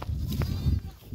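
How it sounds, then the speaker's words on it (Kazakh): A small orphaned calf gives a faint, brief bleat over low rumbling background noise in an outdoor pasture where livestock are kept. "Көлемнің жетім бұзауы бұл деген."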